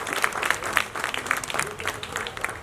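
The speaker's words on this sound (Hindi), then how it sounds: "इसके लिए इनके लिए जोरदार तालियां यहां पर होनी चाहिए" An audience at a Rashtriya Aadiwasi Manch gathering breaks into steady applause, with a few sharp, rhythmic claps standing out above the crowd's clapping, loud and close.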